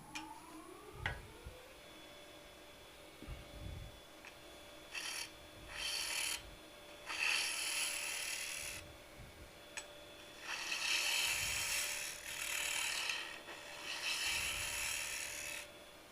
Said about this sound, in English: So I'm going to face off the bottom here